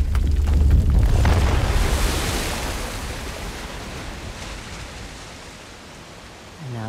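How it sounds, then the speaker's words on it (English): Water waves washing in Uncharted: The Lost Legacy, a broad, loud rush of surf at the start that slowly fades into a steady, softer wash, with a faint voice-like sound near the end. "There be water."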